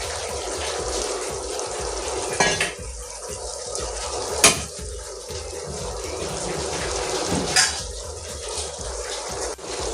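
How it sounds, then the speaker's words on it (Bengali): Eggplant pieces drop into a pot of fried spice paste, giving a steady wet sizzle with a few brief clatters of the pieces and utensil against the pot. "মশলাটা কষানো হয়ে গেছে, এখন আমি বেগুনগুলো দিয়ে দিব এখানে।"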